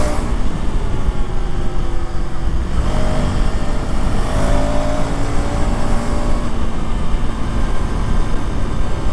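A KTM Enduro 390R motorcycle engine running steadily and loudly while being ridden, a continuous close-up drone with mild rises in pitch and wind rush mixed in.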